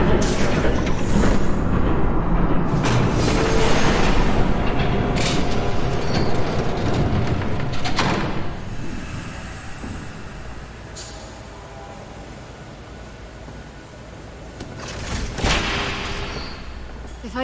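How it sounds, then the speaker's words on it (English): A train approaches and rumbles past in the video game Telltale's Batman, a loud, rolling broadband roar with clanking bursts that swells, fades to a lower rumble and surges again near the end. "There's a train coming."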